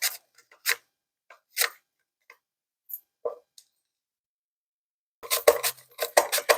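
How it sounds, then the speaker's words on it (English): Onion slices cut thinly on a mandoline, a series of sharp, separate clicks coming at an uneven pace, then a faster cluster of quick strokes near the end, close and fairly quiet. "I prefer using a mandolin simply because the thinner you cut the onion, the crispier it becomes."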